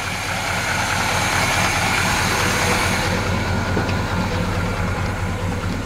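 A 1966 Chevrolet Impala engine idles steadily, a close and even rumble with a faint hiss and no voices.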